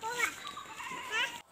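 Goat bleating outdoors on an evening farm in Malappuram, Kerala: a couple of close, wavering bleats over about a second and a half, cut off abruptly at the end.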